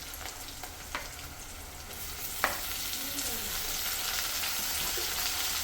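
Tomatoes and onions frying in a pan for egg curry give a soft, steady sizzle that grows a little louder, with a few light clicks and a sharp clink of a utensil.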